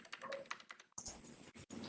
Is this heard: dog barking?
no